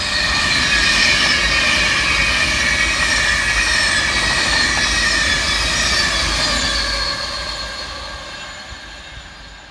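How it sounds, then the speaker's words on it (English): An Avanti West Coast class 390 train passes southbound at speed near Levenshulme, a loud continuous rushing roar with squealing wheel tones that holds steady and then fades slowly as it moves away. "Flying southbound for Avanti West Coast is 390-005, working 1 Alpha 30 from Manchester Piccadilly through to London Euston"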